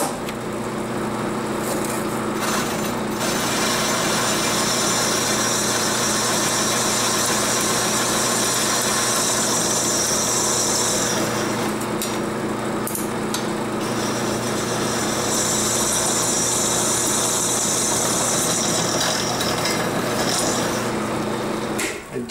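A 1-inch annular cutter bores through steel while oil is applied, part of repairing a Kubota quick attach system; a steady, loud motor drone with a grinding edge runs unbroken from start to finish, with no talking.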